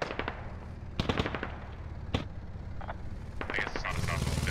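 BTR armored vehicle firing in Squad: sharp bursts of heavy automatic cannon fire, some in quick clusters of several shots and others single, ringing out at moderate distance while a person talks over them.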